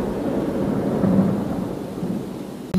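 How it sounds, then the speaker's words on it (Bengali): Heavy rain pours steadily outdoors during shrimp fishing, a dense loud wash of sound with deep rumbling underneath, continuous throughout and without any voices. "বৃষ্টি অনেক জোরে শুরু হয়েছে"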